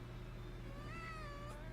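A cat meows once in a drawn-out, wavering call over a steady electrical hum and low background noise, fairly faint and with no talk over it.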